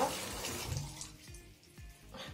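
Running water rinses reusable makeup-remover pads, a soft, quiet splashing and trickling with a few gentle sloshes close by, and no speech.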